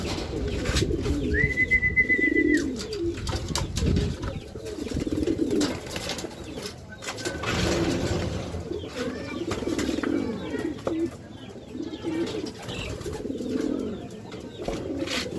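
Racing pigeons coo in a loft during a derby race, repeated low rolling coos close by with occasional chirps and wing flutters, no talk.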